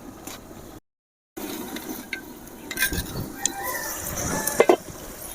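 Fried potatoes are tipped into a pan of cooking chicken, giving a soft sizzle under scraping and stirring, with a brief gap of silence early on and louder clinks and clatters near the end.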